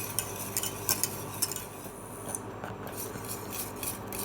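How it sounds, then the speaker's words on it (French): A spoon stirs thick rice pudding in a saucepan, with soft scraping and light clinks against the metal, close and quiet. "Donc là, on continue bien à mélanger pour éviter que ça attache."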